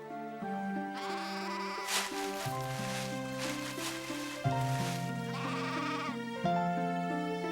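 Lambs in an animated Bible story of a shepherd and his lost sheep bleat in drawn-out, wavering cries that continue through the whole stretch, loud and close, with no talk.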